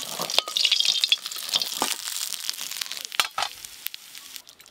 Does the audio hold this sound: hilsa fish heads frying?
yes